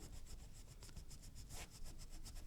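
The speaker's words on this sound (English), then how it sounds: "So I'll rub out that first one." An eraser rubs out a pencil line on paper with quick, rhythmic back-and-forth strokes, close and quiet, with no voices.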